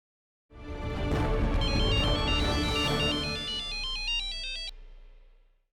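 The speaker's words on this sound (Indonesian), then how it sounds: "Teleponmu berdering tapi kau tidak mengangkatnya." A phone ringtone plays a repeating electronic melody, loud and close, for several seconds before cutting off.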